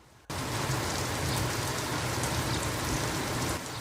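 Steady, heavy rain pours down after a brief quiet start, a dense continuous hiss of drops hitting surfaces that holds until the end.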